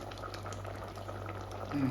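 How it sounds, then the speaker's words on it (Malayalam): A pot of curry with cucumber, drumstick and mango bubbles and simmers steadily, a soft continuous gurgling that stays close and fairly quiet. "ഇതൊന്ന് തിളക്കട്ടെ"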